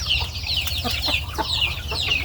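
A flock of Thai native chickens clucks busily at a morning rice feeding on a cool morning, with overlapping nearby clucks and soft calls, dense and continuous, with no speech.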